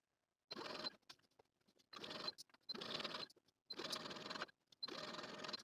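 A sewing machine stitching a dress, running in five steady bursts of rapid mechanical whirring separated by short pauses, close and alone.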